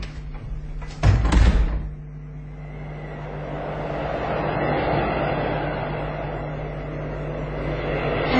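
A door pushed shut with a loud thud and brief rattle, then a low steady rumbling hum that lingers behind it with no voices.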